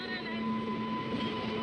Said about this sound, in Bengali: চলে আসলো আমাদের ট্রেন।